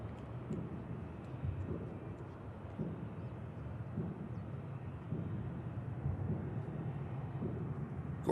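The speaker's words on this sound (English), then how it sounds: "And the EasyJet next to touchdown." An EasyJet airliner touches down at Manchester Airport, heard as a distant, low, steady roar of jet engines with soft rumbling swells, fairly faint and continuous, no talking.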